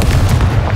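A Confringo fire spell exploding in Hogwarts Legacy, a loud booming blast with a deep rumbling body over a short, dense burst.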